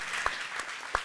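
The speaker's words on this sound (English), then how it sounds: "clap for that." Brief scattered applause from an audience at a farmer forum, a few distinct claps standing out over a soft, diffuse room murmur.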